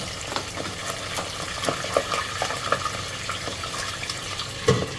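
Marinated milkfish, placed skin down in hot oil, frying in a pan with bursts of crackling and scattered popping spatter over a steady sizzle, with one sharp louder pop near the end.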